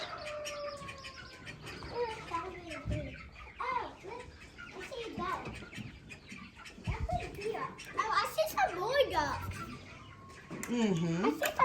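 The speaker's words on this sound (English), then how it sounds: "That's the little call ducks." Call ducks and chickens on a homestead, with scattered clucks, squawks and chirpy calls coming close and loud in bursts while people and someone talk among the birds.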